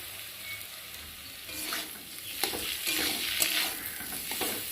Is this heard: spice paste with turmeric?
yes